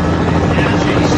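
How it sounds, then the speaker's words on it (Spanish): Steady helicopter rotor drone hanging over the road during a men's professional world road cycling championship in Hamilton, Canada, loud and continuous throughout with faint voices beneath. "ahí está abriendo el helicóptero"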